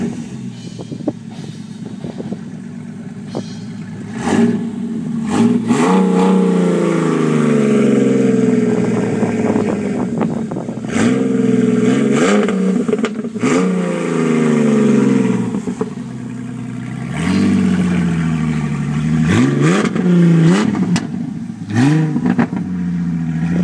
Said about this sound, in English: 2010 Mustang V6 running stock.